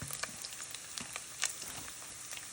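Nine ounces of bacon frying in a pot, a soft continuous sizzle with scattered pops and crackles, close but fairly faint, heard without speech.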